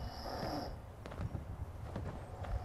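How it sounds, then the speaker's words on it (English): Player character snoring while asleep in Fallout 76, a steady low rumbling breath under faint game ambience with a few soft clicks and thuds. "You can hear our player snoring."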